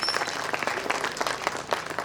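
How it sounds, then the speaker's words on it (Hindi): A kavi sammelan poetry audience claps in honour of mothers, a brief burst of dense, lively applause heard from within the crowd. "अपने अपनी माँ के सम्मान में तालियां बजाते।"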